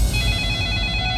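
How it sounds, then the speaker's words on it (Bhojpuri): A telephone rings in a Hindi-language film scene, a loud, continuous electronic bell tone with a steady pulsing texture, heard alone and up close. "कितना फोन आवेला इनकर का मालूम"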